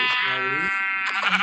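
A goat in the Minecraft video game bleats once, a long, buzzy, wavering cry heard up close, with a voice speaking over its end.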